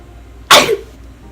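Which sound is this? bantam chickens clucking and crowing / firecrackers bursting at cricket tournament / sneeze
sneeze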